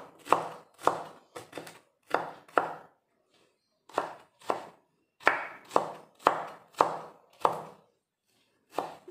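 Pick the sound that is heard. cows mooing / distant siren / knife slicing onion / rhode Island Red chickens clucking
knife slicing onion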